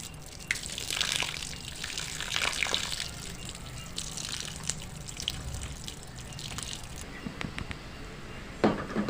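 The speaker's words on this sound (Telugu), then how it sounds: "మనమైతే ఇప్పుడు ఈ బియ్యంలో ఉన్న వాటర్ వంపుకుందాము." Soaking water is poured off rice while Hyderabadi bagara rice is being made, a close run of splashing and trickling that surges and eases, with drips toward the end.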